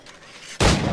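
A single gunshot in Assassin's Creed 4 Black Flag, a sharp, loud blast erupting after a quieter lead-in and ringing out to the end.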